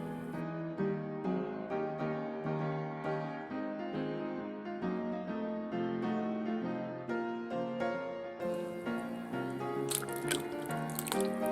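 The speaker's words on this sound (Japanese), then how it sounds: "ボウル、ざる、ガーゼなどを用意し、酵素液を丁寧にこしていきます。" Homemade mandarin orange enzyme liquid is strained through gauze and a colander into a bowl, dripping and trickling steadily and faintly under soft background music, with no talking.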